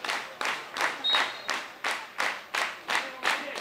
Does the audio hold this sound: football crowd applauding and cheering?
yes